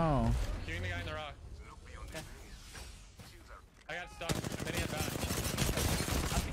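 Gunfire from the video game Apex Legends erupts in rapid bursts, loudest in a sustained volley toward the end, with a player talking over the earlier part of the shooting.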